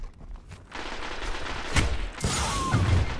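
Machine gun fire in a first-person shooter game, with bursts of loud, rapid shots clustering around the middle and continuing dense and steady toward the end, with no talk over it.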